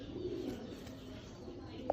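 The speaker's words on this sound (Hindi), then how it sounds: "सियालकोटी बटेरे कबूतर" Soft, low cooing of Sialkoti pigeons in a quiet space, with one brief brighter call near the end.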